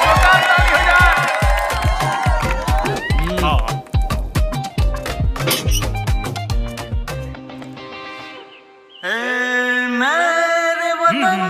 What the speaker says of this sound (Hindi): अमित कुमार प्रजापति के लिए जोरदार ताली हो जाए